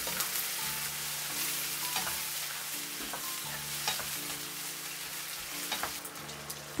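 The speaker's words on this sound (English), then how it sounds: "Turn on low heat, stir for 1 minute." Kung pao chicken with seasoning sauce and diluted starch is stirred in a pan over low heat, giving a steady soft sizzle with scraping stirs throughout and no talking.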